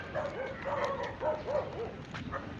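Several dogs bark and yip in quick, uneven bursts at moderate distance outdoors, over steady background noise.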